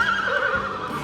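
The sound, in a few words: horse neighing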